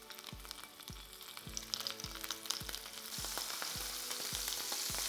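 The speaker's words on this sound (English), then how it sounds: "add your hellim to the pan" Hellim cheese frying in an oiled pan, a continuous bright sizzle with regular soft taps every half second or so, close up, growing slightly louder toward the end, no voices.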